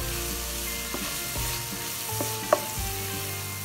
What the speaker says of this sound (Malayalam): ആദ്യം തന്നെ 1 പിടി കറിവേപ്പില ചേർത്തിട്ടുണ്ട്, കറിവേപ്പില ഇഷ്ടംപോലെ ചേർക്കാം.